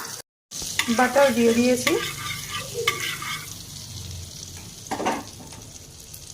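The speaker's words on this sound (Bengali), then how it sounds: "কড়াতে সাদা তেল দিয়ে দিয়েছি, তার সঙ্গে দিয়ে দেব সামান্য বাটার" Butter melting into hot white oil in a wok sizzles and crackles briefly, with clattering stirring sounds and a short spoken phrase over the frying.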